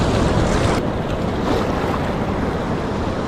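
Waves wash and splash against a rocky shore ledge on the Maine coast, a close, steady surging hiss with wind buffeting the microphone.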